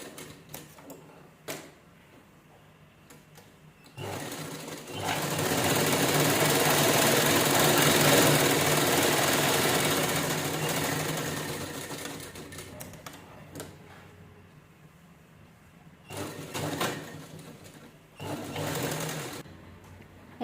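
Sewing machine stitching a purse made from two zips, one long close run of rapid, steady mechanical stitching with short bursts before and after.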